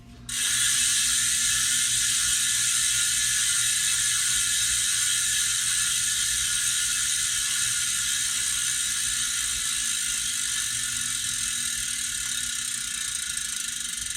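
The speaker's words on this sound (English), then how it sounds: "Got the 6-pawl rapid engage freehub, supposed to offer 5 degrees of engagement" A Hunt 35 carbon gravel disc wheel's 6-pawl rapid-engage freehub ratchets continuously, a bright, fast, even buzzing click that runs loud and close for the whole stretch with no talk.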